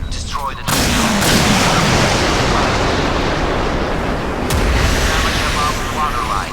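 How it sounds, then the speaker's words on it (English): A rocket launcher fires at an incoming torpedo during a Modern Warships naval battle game, a loud sustained barrage of booming blasts and rumbling explosions that carries on throughout. "Rocket launcher. Destroy the torpedo."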